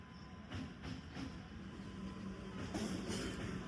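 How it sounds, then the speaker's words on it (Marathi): A train passes a railway level crossing near Dativali on the way to Dombivli: a faint, distant, continuous rumble with soft rhythmic surges, heard alone. "इथून ट्रेन आली."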